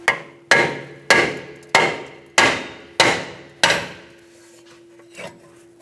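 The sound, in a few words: hammer hitting BMW 328i brake rotor to loosen it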